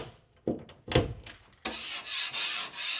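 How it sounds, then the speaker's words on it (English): A Phillips screwdriver turns a screw into drywall while a wall is prepped for a tape coat. Two short, close scraping turns are followed by a louder, steady grinding rasp with rhythmic surges. "So with your Phillips screwdriver, run it in, give it a couple turns"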